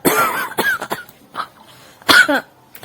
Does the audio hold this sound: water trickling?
no